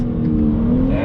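A 2021 BMW M4 Competition engine pulling under hard throttle, a loud steady drone with the pitch climbing slowly as it accelerates, heard from inside the car with a voice faintly mixed in.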